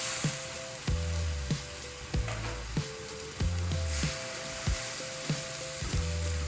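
Soaked glass noodles hit a hot, lightly oiled pan for a stir-fry with cabbage, egg and pork, giving a steady close sizzle broken by regular scraping stirs of a utensil every second or so.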